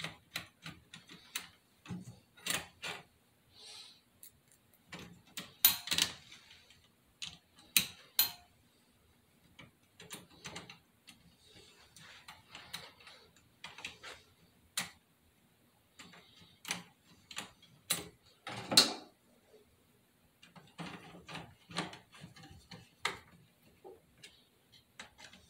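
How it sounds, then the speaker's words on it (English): Screws being driven into the drop target plate of a classic Bally pinball machine, heard as sparse, quiet ticks and small clicks scattered across a near-silent workbench, with no talk. "I'm gonna again put these screws in"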